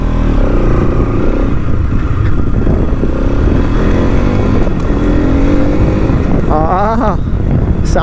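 A 2023 Bajaj Pulsar NS 200 motorcycle engine rumbles loudly and steadily close by, with a couple of rising revs near the end, while someone talks over it.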